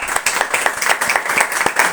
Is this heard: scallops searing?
no